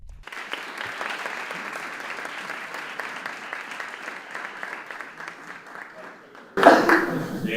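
Sustained applause from a lecture-hall audience at a university science and technology faculty, steady and moderately loud, rising into a louder burst near the end.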